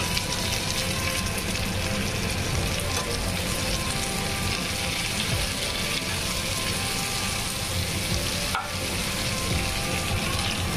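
Onion, tomato and green chilies fry in a pan with a dense, steady sizzle that keeps an even level throughout, with no talking.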